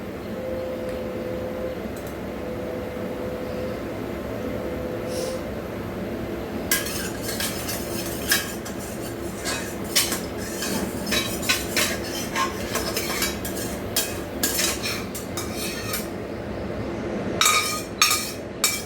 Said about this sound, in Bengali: কড়াটা একটু ধুয়ে নেব।